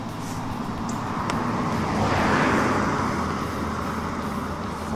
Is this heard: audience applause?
no